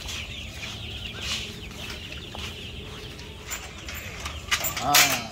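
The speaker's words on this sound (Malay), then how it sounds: "Kita tengok anak ayam." Baby chicks chirping in a home backyard coop under a lamp, a dense continuous peeping chorus close by, growing louder and busier toward the end.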